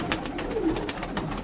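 A pigeon coos softly nearby, a brief low warbling call set against faint background clatter and scattered taps.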